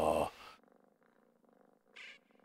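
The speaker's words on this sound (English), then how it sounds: "Was I just hearing cats?" A cat purrs in Elder Scrolls Online, a soft, low, rhythmic rumble of steady pulses that follows a brief louder sound at the start and continues quietly on its own.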